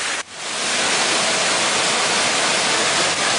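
River water rushes in a steady, loud, broadband roar during the rainy season in Aik Berik village, Lombok. The torrent runs unbroken and close after a brief dip at the start.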